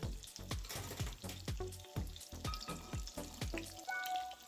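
Cheese pancakes (syrniki) sizzle and crackle in a hot pan, with rhythmic bursts of popping and hissing close by.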